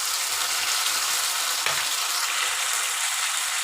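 Chopped onion and ginger-garlic paste fry in hot oil in a pan for a catla fish kalia, a steady close hiss of sizzling with a faint clink midway and no talking.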